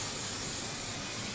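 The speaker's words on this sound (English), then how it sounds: "I am going to use KK2000, which is a sulky product, and I'm going to spray baste this" KK2000 temporary spray adhesive is applied to fabric backing, producing a continuous close, even hiss from the aerosol with no pauses.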